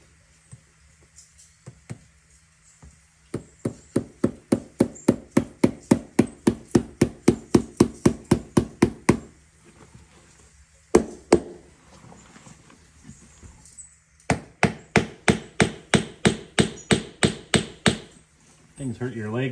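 Tricouni nails are hammered into boot soles with rapid, evenly spaced metallic taps in long runs, close and sharp, with short pauses and a few irregular knocks between bursts.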